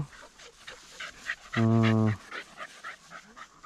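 Close, rapid dog panting in quick rhythmic breaths, interrupted midway by a brief, loud, tonal whine before the panting resumes, during a quail hunting outing.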